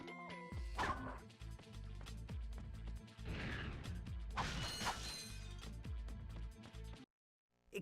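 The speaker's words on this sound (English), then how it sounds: "And I'll lock that door while I'm at it." A door being locked in the Ratchet and Clank video game, a busy run of mechanical clanks, ratcheting clicks and gear-like clatter that ends abruptly in near silence.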